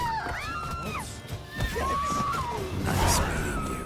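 Roach, Geralt's horse in The Witcher 3 video game, lets out two or three clear whinnies over busy game ambience and scuffling fight sounds, fairly close and loud.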